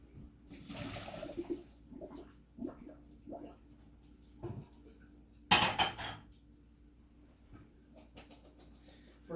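Boiled potato drained from a cooking pot for Senate bean soup: a few light metal clanks and knocks, then a short, loud rush of water pouring out, followed by quieter scattered clinks.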